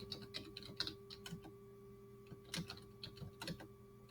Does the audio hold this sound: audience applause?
no